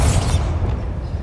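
A Bombarda spell explodes on a bridge in Hogwarts Legacy: one loud, close booming blast with a rumbling tail that quickly fades away.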